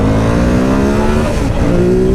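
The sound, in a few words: Ducati Monster 1200R motorcycle accelerating onto highway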